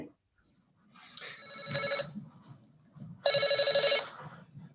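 A phone call rings out through a speakerphone in a meeting room, two electronic ring bursts with a pause between them, moderately loud, over faint background murmur.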